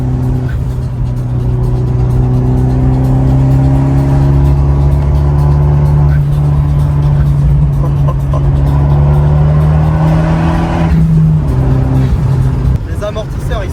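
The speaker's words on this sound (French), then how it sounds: "Oh là là, la violence du turbo en plus." A turbocharged car accelerates hard through a curve at around 80, its engine droning loud and climbing in pitch for several seconds before a gear change, with an excited voice talking over the roar.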